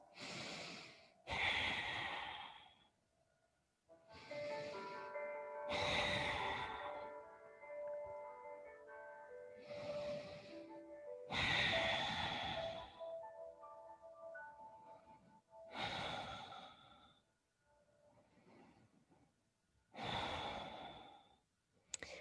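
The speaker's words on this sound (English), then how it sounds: "just take a couple of gentle Ujaaii breaths here" Gentle ujjayi yoga breaths, a slow series of soft, throaty airy inhales and exhales with pauses between, close and quiet, with faint tonal background sound underneath.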